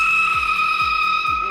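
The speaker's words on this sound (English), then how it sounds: "It actually does a reasonably good skid." Toyota Yaris on a race track skidding, its tyres squealing in a steady high-pitched howl that holds for over a second while engine rumble pulses beneath, close and loud.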